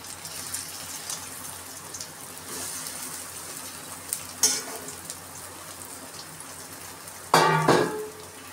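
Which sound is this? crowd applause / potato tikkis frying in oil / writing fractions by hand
potato tikkis frying in oil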